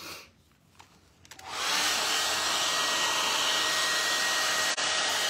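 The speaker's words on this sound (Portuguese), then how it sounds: "Então agora eu vou pegar o secador de cabelo só pra tirar esse..." A handheld hair dryer, used to dry paint on a provençal patina furniture piece, switches on after a few quiet handling knocks and then blows with a loud, steady, close whoosh that holds to the end.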